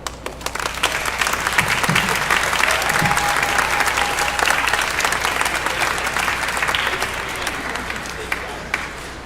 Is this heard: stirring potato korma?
no